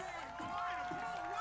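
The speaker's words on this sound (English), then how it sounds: "a nice crowd tonight" Crowd noise from spectators ringing the track at the Falmouth Mile evening race, a steady murmur and scattered cheering heard under announcer commentary throughout.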